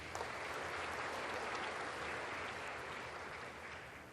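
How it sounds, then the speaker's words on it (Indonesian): Steady applause from an audience honoring a university rector, dense continuous clapping filling the room at even strength before easing slightly toward the end, with no speech over it. "Tepuk tangan untuk beliau."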